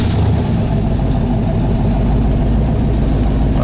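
A mid-1960s Corvette Stingray V8 with a four-speed idles loudly and steadily, a deep continuous rumble with no pauses and no talking.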